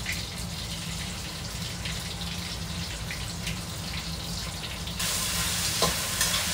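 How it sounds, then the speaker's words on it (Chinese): Garlic, ginger and doubanjiang stir-fry in oil in a wok, a steady sizzle with scraping stirs, close up, growing brighter and louder near the end, with no speech. "给它煸炒出来这个香味。"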